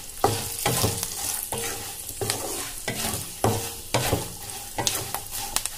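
A spatula stirs a tempering of spices and asafoetida sizzling in hot oil for paper avalakki chivda, with steady rhythmic scraping against the pan over a soft, continuous fry.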